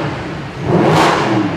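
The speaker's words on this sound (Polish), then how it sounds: "To jest auto do delektowania się dźwiękiem tego pięknego wydechu." A 2013 Mercedes-AMG SLS with a 6.2-litre, 571 hp engine revs up briefly, swelling into a loud, throaty exhaust roar close by, then easing slightly.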